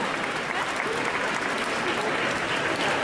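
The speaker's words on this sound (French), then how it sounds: "on va les applaudir très très fort" Steady, dense applause from a crowd at a cosplay parade fills the whole moment, even and sustained without a break.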